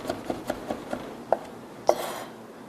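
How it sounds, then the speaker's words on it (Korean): A kitchen knife minces garlic finely on a cutting board, sounding as a series of crisp, close taps in uneven rhythm, ending with two firmer chops. "이렇게 해서 곱게 다지시면 여러분의 칼질이 되지 않아도 곱게 마늘이 다져집니다."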